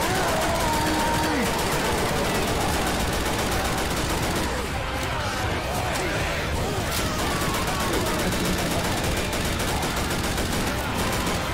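Left 4 Dead 2 gunfire rattles on almost nonstop, rapid automatic bursts and shots packed densely together at high volume, with voices chattering underneath.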